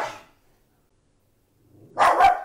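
A guard dog lets out a short bark, a faint yip at the start, then after a pause a close double bark, loud and sharp, with no talk over it.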